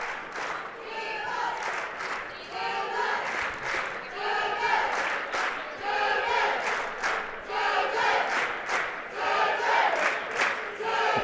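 Girls' high school basketball crowd at the Girard Trojans vs Eagles tournament game in Burlington, cheering and shouting in waves across the arena, a sustained dense roar with rhythmic swells throughout.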